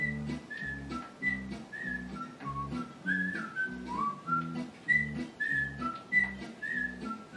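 A character in the sitcom Scrubs whistles a cheerful, bouncy tune with a steady rhythmic beat underneath, clear and continuous, with no talk over it.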